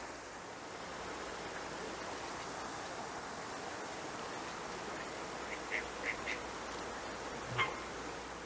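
Ducks being fed by a fountain, giving a few brief, fairly faint quacks toward the end over steady rushing water.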